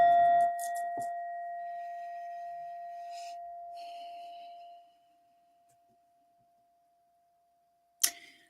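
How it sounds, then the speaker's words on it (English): Someone strikes a singing bowl with a Buddha in the middle. A bright, clear ring sustains and slowly fades over about five seconds, with faint rustling, then silence, and a sharp tap near the end. "I also do some sound healing from this beautiful bowl"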